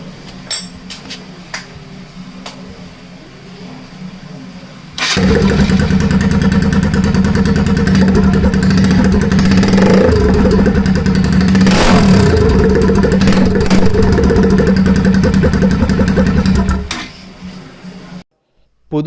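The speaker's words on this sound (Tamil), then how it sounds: "ஸோ எக்ஸாஸ்ட் ரிமூவ் பண்ணிட்டு சவுண்ட் எப்படி இருக்குன்னு கண்டிப்பாக கேட்கணும்." A Bajaj NS200 motorcycle with its exhaust removed sits quiet at first, then its engine bursts to life with a loud, raw, unmuffled roar and sharp revs close by. It runs for about twelve seconds before cutting off.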